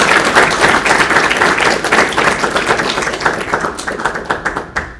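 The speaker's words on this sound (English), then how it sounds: "So if we could just give him a quick round of applause." A hearing-room audience gives a short round of clapping, close and fairly loud at first, then thinning into scattered claps that fade over five seconds.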